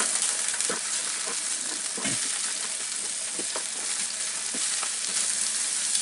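Small shrimp fry in a pan, giving a continuous dense sizzle with occasional stirring scrapes and taps, close and steady, with no voices.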